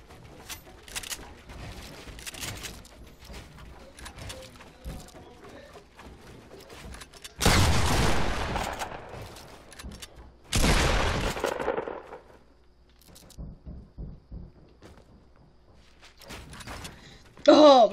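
Two loud bursts of gunfire from Fortnite mobile crash in a few seconds apart, with sparser shots and in-game clatter scattered around them and a player's voice talking in between.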